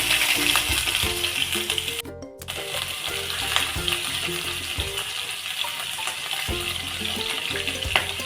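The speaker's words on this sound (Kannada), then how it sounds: "ಇದು ಎಣ್ಣೆಯಲ್ಲಿ ಸ್ವಲ್ಪ ಫ್ರೈ ಆಗಲಿ." Ginger, garlic, mustard seeds and cumin sizzle and crackle in hot oil for a tempering, with a steady frying hiss, a brief pause and small clinks of stirring.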